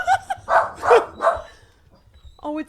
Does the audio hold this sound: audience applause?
no